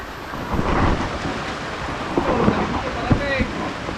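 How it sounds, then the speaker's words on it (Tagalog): Heavy rain pours down around a house in a storm, a dense, loud, steady hiss broken by a few sharp cracks and low rumbles of thunder. "Napakalas na ng ulan dito."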